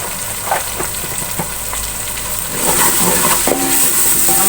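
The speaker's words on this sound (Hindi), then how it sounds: "हम मसाले को थोड़ी देर भून लेंगे।" Spices frying in a pan for aloo palak, turmeric and red chilli powder in hot oil, a steady close sizzle that grows louder midway, with light stirring taps.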